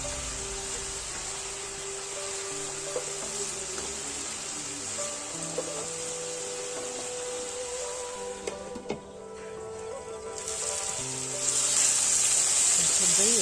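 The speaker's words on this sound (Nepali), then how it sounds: "लौकालाई चाहिँ अब छोपी एकछिन पकाउनु पर्छ।" Bottle gourd cooking in a covered pan, a steady hiss and soft sizzle filling the whole stretch, with faint clinks and low rumbles underneath and a brighter hiss rising near the end.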